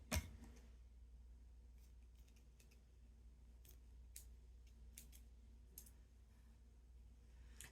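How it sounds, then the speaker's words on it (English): Scissors snip through loops of fuzzy, fluffy yarn on a craft gnome, giving faint, scattered close clicks and snips over a quiet room hum. "Make sure you get all of the loops trimmed."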